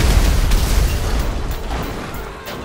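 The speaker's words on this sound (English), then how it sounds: "The Kuruma will explode and kill all inside it with just one explosive though." A Kuruma armored car in GTA Online blowing up from a single explosive, a loud deep boom with a rumbling tail fading over a few seconds, no talk.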